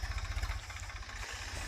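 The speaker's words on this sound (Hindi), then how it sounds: "इसको फैलाने के लिए हम उपयोग कर रहे हैं ट्रैक्टर का।" A tractor engine runs nearby on a paddy farm, giving a low, steady, pulsing rumble like an idle, loud and alone with no talk over it.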